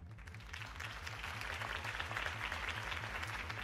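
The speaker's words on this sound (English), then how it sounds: "could have heard that applause" A crowd applauds steadily in the video game Batman: The Enemy Within, sustained clapping at a moderate distance over a low rhythmic musical pulse.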